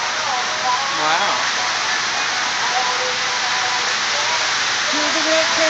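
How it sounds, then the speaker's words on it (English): Steady rain falls at the Shady Dell in Bisbee, Arizona, a dense continuous hiss close by, with a voice singing and speaking faintly beneath it. "Oh, it is raining."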